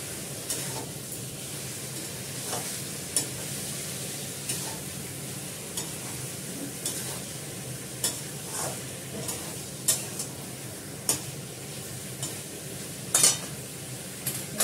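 Whole cloves and spices sizzle steadily in a hot pan while a utensil stirs and scrapes at intervals, with sharp clinks against the pan throughout and no talking.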